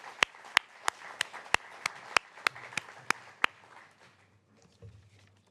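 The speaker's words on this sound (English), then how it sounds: "Please give our speakers a round of applause" A sparse round of applause for speakers at a design forum on housing: about a dozen sharp, evenly paced claps, close and distinct, fading into quiet room noise and a soft thump at the end.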